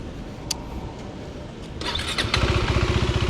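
A KTM 390 Adventure R motorcycle engine with its standard exhaust cranks and catches, rising from a rough rumble into a steady, close, pulsing idle.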